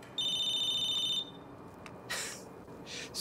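A phone rings once in a Battlefield Hardline cutscene, a bright electronic trill lasting about a second that then cuts off, followed by quiet and a few soft rustling thuds.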